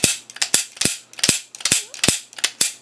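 An Uberti El Patron 9mm single-action revolver, unloaded, with its hammer fanned and cocked: a quick rhythmic series of sharp metallic clicks and ratcheting snaps, close and loud, about a dozen in under three seconds.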